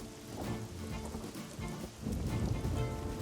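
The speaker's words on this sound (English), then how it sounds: "Soon after that, the sky darkened and a storm began." Steady rain of a storm in an animated children's cartoon, a dense moderate patter that swells slightly louder partway through, with no voices.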